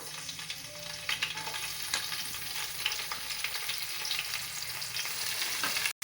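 Green chillies fry in a couple of spoons of hot oil for a tempering, with a steady close sizzle and occasional scraping from stirring, with no voices.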